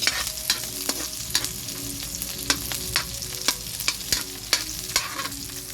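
Onions sauté in a pan for home-style red kangkong with tofu, a soft continuous sizzle punctuated by a regular series of crisp utensil taps and scrapes against the pan.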